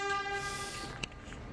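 A train sounding a steady, tonal horn in a short, fairly faint burst, with a brief clank near the end and no talking.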